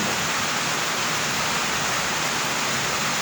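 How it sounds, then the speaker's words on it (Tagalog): Heavy rain pouring without a break, a loud, dense, even hiss with no pauses or other sounds over it. "Lakas mo pa ang ulan."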